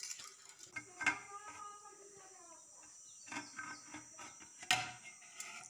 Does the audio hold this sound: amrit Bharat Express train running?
no